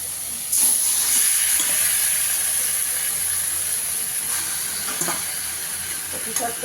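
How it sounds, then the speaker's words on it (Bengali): Boiled taro leaves dropped into a spice masala fried until the oil separates, setting off a loud, steady hiss and sizzle, close by, with a few soft stirring knocks. "এবার আমি কচু শাকটা দিয়ে দেবো।"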